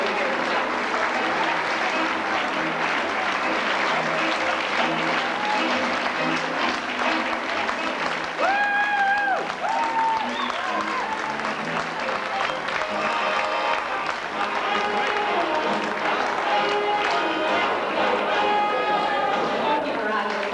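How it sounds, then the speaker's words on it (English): Sustained audience applause fills the hall at the Miss Ireland 1992 beauty pageant, loud and steady throughout, with cheering voices and music rising through the clapping. "we will give a round of applause to all the girls backstage who didn't get to go here"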